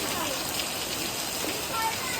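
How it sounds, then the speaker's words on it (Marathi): Heavy rain pours down steadily during a Ganpati festival gathering, a dense, continuous hiss of drops on surfaces that stays even and close throughout with no break. "तुम्हाला दाखवतो कवरा भारी पाणी पडतंय."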